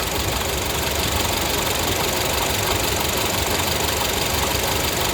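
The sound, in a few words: Honda Civic 2012 EX engine noise with AC on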